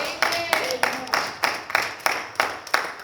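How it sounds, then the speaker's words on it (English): Congregation at a church service claps in unison as praise, about nine sharp, evenly spaced group claps in a steady rhythm, close and fairly loud, with no talking over them. "Can I get a hand clap of praise?"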